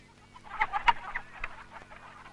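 Chickens at a shop selling live birds cluck in a cluster of bursts that peaks and then trails off, close and moderately loud, with no voices.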